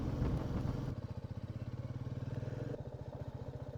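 A Royal Enfield Meteor 350 touring motorcycle rides along a winding ghat-section road, its single-cylinder engine thumping in a steady, close pulse that is loud and unbroken, with a brief shift in tone partway through.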